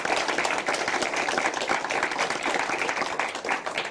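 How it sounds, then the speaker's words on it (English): A crowd claps steadily throughout, a dense and fairly loud patter of many hands with no pauses. "A round of applause, please"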